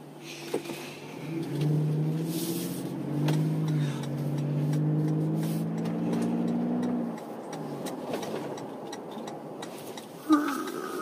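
A Toyota 4Runner TRD Pro drives along a city road, a steady low engine hum that swells and eases as it moves, heard from inside the cabin with a light click near the end.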